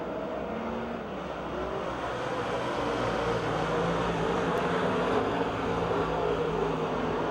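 Race cars lapping Pennsylvania Motor Speedway near Pittsburgh make a continuous, loud engine roar that holds steady throughout, with several motors blending into one sustained drone and no talk.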